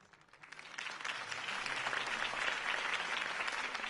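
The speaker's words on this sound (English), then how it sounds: "could have heard that applause" Applause from a large crowd swells and holds steady, a dense wash of clapping heard from a moderate distance.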